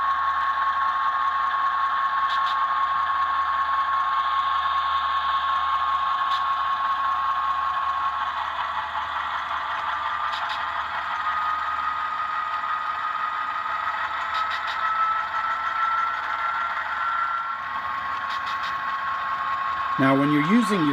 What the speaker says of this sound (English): And once we get moving, we can increase the throttle.